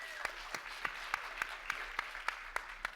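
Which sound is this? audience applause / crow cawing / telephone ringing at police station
audience applause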